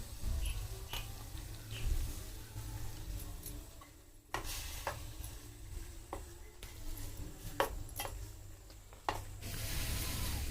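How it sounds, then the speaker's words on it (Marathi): Grated coconut is stirred into a sizzling tempering with taro leaf rolls on a traditional Konkan wood-fired stove, a soft continuous frying hiss broken by sharp spoon clicks and scrapes against the pan. "आता चांगला तडका द्यायचा आहे फोडणीचा मिक्स करून"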